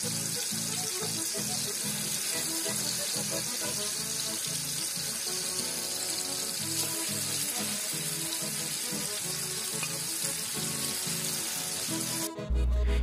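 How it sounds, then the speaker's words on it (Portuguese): Lamb spine frying in a pan of hot lard, a steady broadband sizzle and crackle throughout, with a low rhythmic pulsing underneath and an abrupt change near the end. "E e já coloco para fritar na panela com banha quente."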